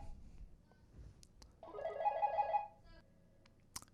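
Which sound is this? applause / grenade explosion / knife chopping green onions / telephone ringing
telephone ringing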